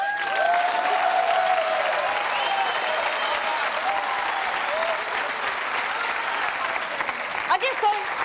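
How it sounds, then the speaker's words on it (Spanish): Studio audience on the Spanish TV programme El Intermedio applauding presenter Beatriz Montañés, sustained loud clapping across the whole stretch, with faint voices and a tonal cue mixed underneath. "Un fuerte aplauso para Beatriz Montañez."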